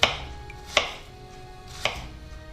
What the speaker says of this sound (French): il ne me reste plus qu'à couper les oignons